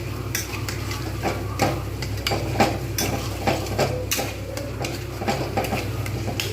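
Pointed gourd masala with mango kasundi is sautéed in a pan with quick, repeated scrapes and clinks of a spatula against metal over a low, steady sizzle, close and fairly loud, with no talking.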